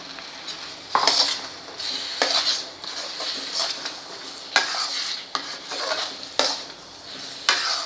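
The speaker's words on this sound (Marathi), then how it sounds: "आता त्यात आपल्याला टोमॅटो परतून घ्यायचा आहे" Tomatoes hitting a pan of onions already sautéed for several minutes, with repeated scraping stirs and clinks of a spoon against the pan over a steady sizzle, stirring strokes coming in bursts every second or so.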